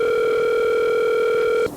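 A phone call rings out as a single sustained electronic tone, loud, close and unbroken for well over a second before stopping suddenly, leaving faint background noise.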